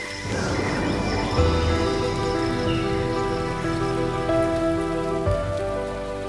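Steady rain patters on a surface throughout, a dense continuous wash with some tonal background underneath and no talking.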